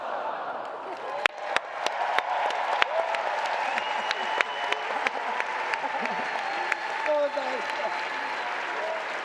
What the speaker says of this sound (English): And a thunder of applause for Natalie and Satish.